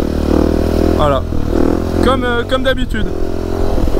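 A motorcycle ridden by a beginner practising a wheelie stunt: a loud, close engine drone that climbs and wavers as it revs, while someone talks in French over it.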